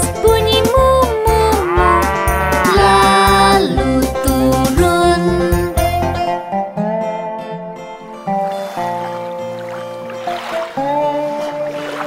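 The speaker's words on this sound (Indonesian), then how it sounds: "Sapi pada bus bunyi mu mu mu" A sung cow moo forms part of a children's counting song about the wheels on the bus, set over bright, steady instrumental backing with lively melody and a sustained vocal line.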